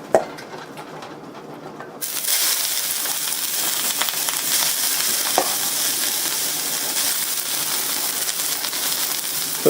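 Cabbage sizzling and frying loudly in a hot wok for beef chow fun, a steady broadband crackle that jumps up when the cabbage goes in, with occasional scrapes and stirs and no talk.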